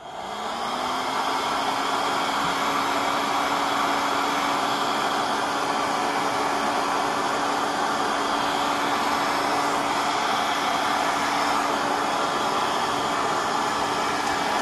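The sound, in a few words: heat gun shrinking heat shrink tubing on copper speaker cable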